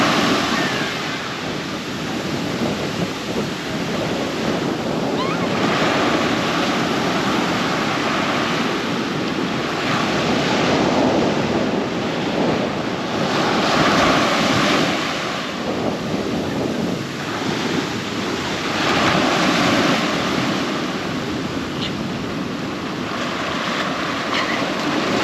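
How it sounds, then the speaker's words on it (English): Ocean surf at Kelingking Beach on Nusa Penida, a loud, steady roar of breaking waves with rising and falling swells heard from a distance, with no talk. "Look guys, what the water and the wave, oh, so beautiful."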